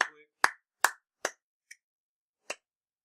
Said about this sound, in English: I'm clapping, aren't I?